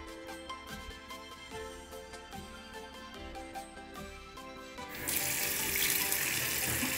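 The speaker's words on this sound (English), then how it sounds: "我刷牙 ，I brush my teeth。" A water tap runs while someone brushes their teeth: quiet brushing clatter and small knocks come first, then the faucet opens into a steady, close hiss of flowing water.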